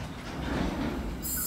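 A Sydney light rail train rumbles steadily at close range, a continuous low rolling drone with a faint high whine entering near the end.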